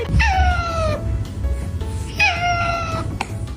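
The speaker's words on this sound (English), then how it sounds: "Hey Gandalf, can you give me a very small meow?" A pet cat gives two drawn-out, wavering meows close by, one after another with a short pause between, over a low background rumble.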